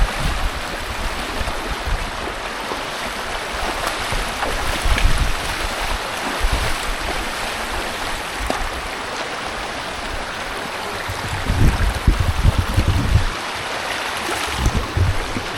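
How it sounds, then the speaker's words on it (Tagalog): Tukuran Falls, a waterfall, rushing in a steady loud wash of broadband noise with occasional louder surges, heard up close with no talking. "So this is the Tukuran Falls."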